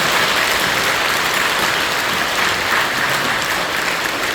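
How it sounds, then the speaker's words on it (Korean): A church congregation bursts into warm, sustained applause, a dense steady wash of clapping from many hands that lasts throughout. "우리 환영하는 마음으로 뜨겁게 박수 한번 해주시기"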